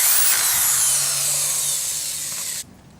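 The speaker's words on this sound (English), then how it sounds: "if you want it to go more quickly, use the power drill" A power drill whirs steadily for a couple of seconds, its pitch sliding slightly as it drives a screw during trampoline assembly, then cuts off abruptly.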